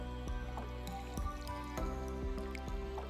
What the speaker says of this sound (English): And then you just want to brush it